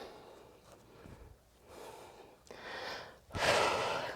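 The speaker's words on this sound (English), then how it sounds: "Breathing." Heavy breathing during a full body workout comes as a series of forceful exhales and sharp inhales, building louder toward the end, close to the listener.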